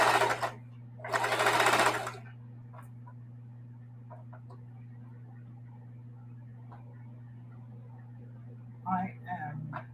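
A sewing machine stitches a mitered binding onto mudcloth: a steady low mechanical hum with soft rapid ticking, close by, while someone talks in short bursts at the start and end.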